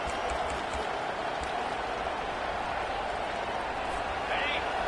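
A packed football stadium crowd at an LSU game roars in a steady, dense wall of cheering and applause, loud and unbroken, with a commentator's voice faintly mixed in.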